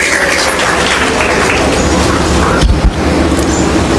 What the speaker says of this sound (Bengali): আমরা জোরে একটি করতালি দিব